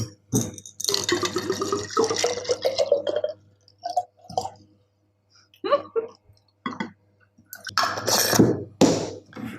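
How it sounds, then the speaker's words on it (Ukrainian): White rum glugs and splashes from a bottle over Skittles in a jar, close, in irregular bursts with pauses, plus clinking and rattling of the glass. "І тепер заливаємо все це ромом."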